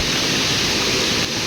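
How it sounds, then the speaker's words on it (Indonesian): A river flowing beside a forest home, a steady broadband rush of water that stays constant and fairly loud throughout, with no voices. "Ini kedengaran suara sungai ya"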